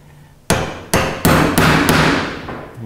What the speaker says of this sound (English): quick little trick that I can show you here on how to get this started is just simply use a chisel